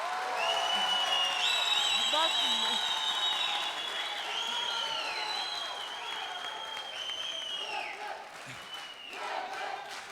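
A studio audience at the Popstar talent show claps steadily, loud at first and tapering off, while a voice speaks briefly over the applause.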